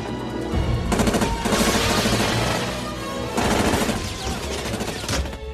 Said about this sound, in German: Feuergefechte und Explosionen brechen aus.